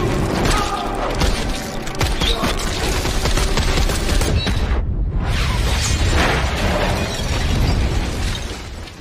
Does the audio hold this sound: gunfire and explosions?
yes